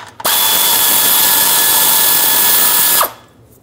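A power tool spins out a 13 mm bolt while a power steering pressure line is replaced on a 2008-2020 Dodge Grand Caravan: one steady, loud, high whine of about three seconds, starting and stopping abruptly, with no talk.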